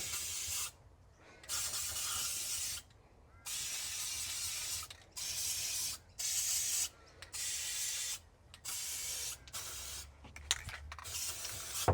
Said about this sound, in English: these little ones I'm just going to spray up now